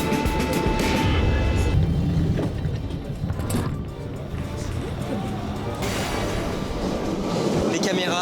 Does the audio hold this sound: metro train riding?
yes